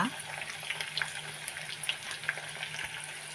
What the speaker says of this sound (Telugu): పప్పు బాగా వేగనివ్వాలి